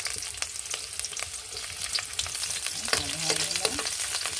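Onion goes into a pan where ginger and garlic are already sautéing for chicken tinola, giving a continuous close sizzle broken by scraping stirs and light utensil clicks.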